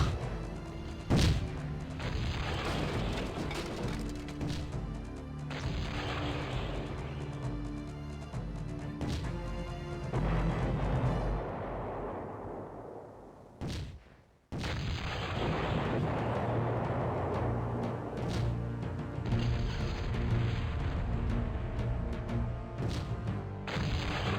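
Cannons fire again and again in the Cossacks strategy game, heavy booming blasts layered with crashes and rumbling across a battle, with one brief dropout partway through before the barrage resumes.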